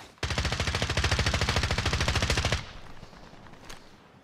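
Rapid automatic gunfire in Call of Duty: Modern Warfare, a loud close burst of evenly spaced shots lasting over two seconds, then a few fainter distant shots and clicks.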